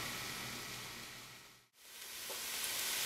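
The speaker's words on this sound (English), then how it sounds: "we are going to saute these garlic and onions until they're translucent" Garlic and onions sauté in a pan for a chickpea curry, giving a steady close sizzle that fades briefly to near silence in the middle before returning just as strong.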